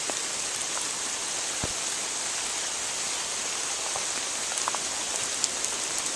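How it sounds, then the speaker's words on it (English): Steady rain patters on the ground and foliage of an English woodland, a dense, even hiss holding for the whole stretch with a few louder drips standing out nearby. "Who'd have thought it'd rain in England"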